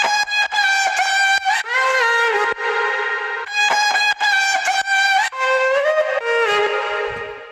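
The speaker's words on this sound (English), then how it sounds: "And then the chops, which are like the main sound you hear in this drop" Bright, pitched vocal chops stutter and glide over a dense, loud electronic drop, cutting in and out in rapid rhythmic bursts.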